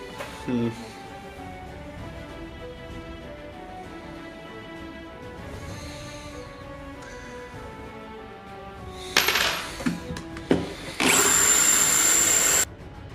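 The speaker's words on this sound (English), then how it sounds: "maybe I should use a smaller bit. Try to grind it like that." A power tool fitted with a bit grinds at a saw-blade-style Daedric axe prop, coming in as loud, rough bursts of a few seconds near the end after a long, quieter stretch of steady background tone.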